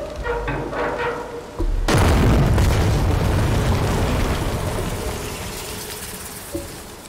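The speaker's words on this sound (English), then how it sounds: "I'm just gonna blast this gate open." In the video game Shadow of the Tomb Raider, a gate is blown open by a loud, sudden explosion that follows quieter ambience, then a long rumbling roar fades slowly, with a small knock near the end.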